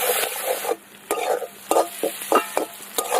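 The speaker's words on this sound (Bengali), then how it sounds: "পেঁয়াজটাকে ভালো করে কিন্তু একদম ভেজে নিতে হবে।" Onions fry in oil with bay leaf and whole garam masala, a soft sizzle broken by several sharp stirring scrapes in an uneven rhythm, close by with no talk.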